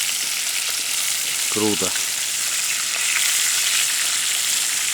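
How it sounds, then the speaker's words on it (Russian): Steady, loud sizzling of fresh fish frying in hot oil outdoors on the Sea of Okhotsk shore, Sakhalin, continuous throughout, with a brief spoken word near the start. "Вот она как она скворчит здесь"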